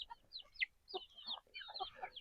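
Chickens cluck inside a mobile chicken coop, a chicken tractor, giving short, close, fairly soft clucking calls in several quick bursts with brief pauses between.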